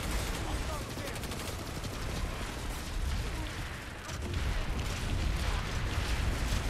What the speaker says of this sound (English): Look how much I'm getting fired at right now.